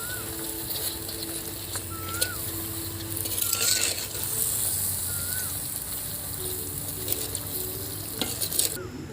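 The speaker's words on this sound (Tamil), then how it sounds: "இதில் போட்டுட்டு நல்லா பரட்டிக்கலாம்" Food stir-fried in a pan for meal maker chilli egg pasta, a steady sizzle with intermittent scraping and stirring strokes, close and moderately loud.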